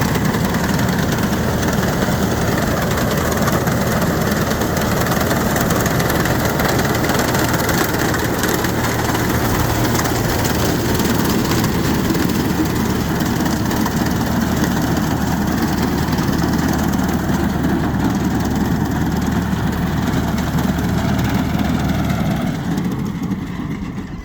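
A tractor engine drives a harvesting machine, a wheat machine used for cutting rice, and runs steadily and loud throughout with a deep idling rumble and no talk.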